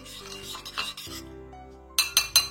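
Melted white chocolate is stirred in a bowl, giving soft scraping and rubbing strokes followed by several quick, louder clinks of the utensil against the bowl near the end.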